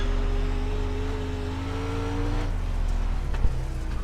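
A Pro Late Model race car in the iRacing sim, held near full throttle while powering out of a corner: a steady, loud, close engine drone with a slight pitch rise and no voices.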